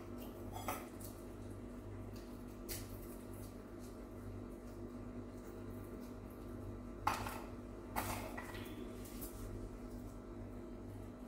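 Idly podi ingredients dry roasted in a pan without oil, with a steady low stirring rustle and a few sharp scrapes and clinks of a utensil against the pan.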